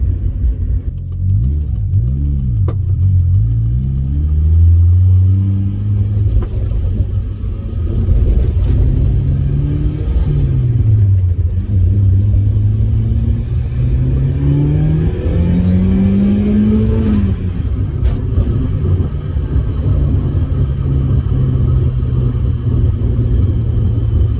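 A car with a clutch suspected of slipping and an aggressive pressure-plate spring accelerates hard in second gear, its engine rising loudly and steadily in pitch across several long pulls with a constant road rumble, heard from inside the cabin.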